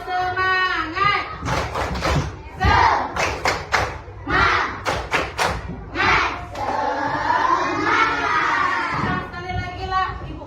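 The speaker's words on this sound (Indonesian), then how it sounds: "kita tepuk semangat." A classroom of children performs a rhythmic spirit clapping chant, with bursts of sharp group claps and thumps mixed with loud shouted chanting voices, close and lively throughout.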